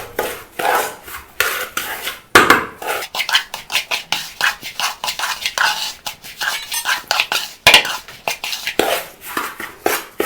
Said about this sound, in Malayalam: ചൂടോടെ തന്നെ നമുക്ക് ഇതിനകത്തിലോട്ട് ഒഴിച്ച് നല്ലവണ്ണം ഇളക്കാം.